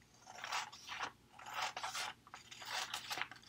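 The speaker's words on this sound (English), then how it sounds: "the edge with my scissors." Scissors cut along the edge of a folded paper strip: three quiet, close rasping snips with short pauses between them, no voices.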